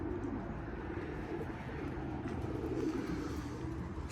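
Racing pigeons cooing at their loft, a low, steady murmur of coos running throughout at moderate closeness, with no talking.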